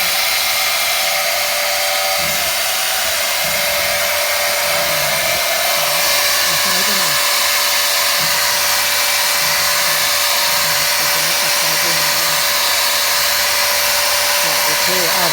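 A Makita DLS714Z 7-inch 36V cordless slide miter saw motor whines steadily and loudly, close up, with someone talking over it throughout.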